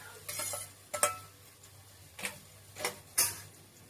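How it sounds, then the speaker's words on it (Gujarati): Chopped carrots and onion being stirred in a pan give a few separate scraping, clinking strokes of a utensil against the metal, spaced irregularly over a low steady hum, with no voices. "એ ગાજર નાખીશું અને એને બરોબર હલાવી દઈશું"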